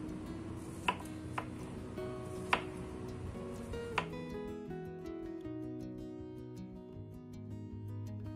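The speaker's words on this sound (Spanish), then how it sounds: "cortamos el calabacín también en rodajas finas" A knife slicing zucchini into thin rounds on a cutting board, a few crisp separate chops spaced about a second apart, faint and close, under soft background music.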